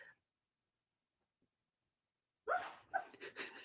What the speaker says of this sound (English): I don't know if you can hear her yipping